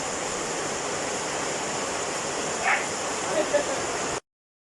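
A boat is paddled through water on an Amazon jungle expedition: a steady close wash of moving water with a couple of brief splashy strokes, then sudden silence.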